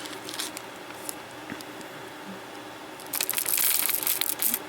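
Crackled glass beads poured back into a bag, a soft rattling and crinkling of beads and plastic that grows louder and busier near the end, close and fairly quiet.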